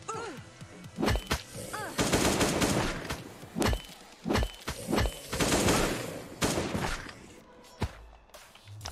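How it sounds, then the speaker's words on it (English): Repeated bursts of AK rifle fire in a video game at a motel location, loud and close, with short volleys and single cracks separated by brief pauses across the stretch. "I'm using an AK at the motel."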